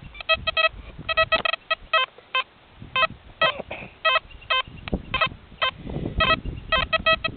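Metal detector target tones repeating from a dime buried about seven inches deep in a farm field with iron trash nearby, coming as broken, inconsistent beeps over low background rumble.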